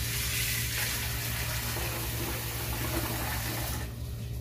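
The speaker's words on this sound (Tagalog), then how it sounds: "Dagdagan natin ng tubig." Water pours steadily into a cooking pot of rice-water broth while making ahop guk, a continuous close rushing splash that cuts off near the end.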